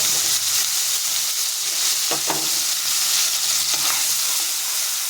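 Chopped onion with chopped and whole garlic cloves, added after nigella seeds, fry in a pan with a steady loud hiss and sizzle, plus a couple of brief stirring scrapes, heard up close with no one talking.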